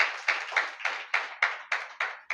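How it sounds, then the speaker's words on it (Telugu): A church congregation at a Holy Communion service claps for the Lord in a steady run of about nine sharp, evenly spaced claps, fairly loud and close. "చప్పట్లు కొట్టండి ప్రభువుకి, గట్టి కొట్టాలి"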